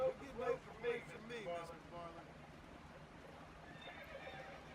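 A horse in the video game Red Dead Redemption whinnies loudly in a few quick shrill bursts, then hooves clip-clop softly as the sound fades.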